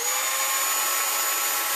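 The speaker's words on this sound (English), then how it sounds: "we're going to take our drill for the tap" Small power drill runs continuously with a steady high-pitched whine, tapping bolt holes for the sliding canopy of a Ziroli Texan model plane, close and loud with no talking.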